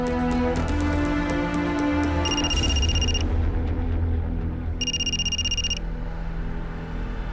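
A telephone rings with an electronic warbling tone in two bursts, heard over a dense music bed in a dramatic crime scene, the call coming from a hospital.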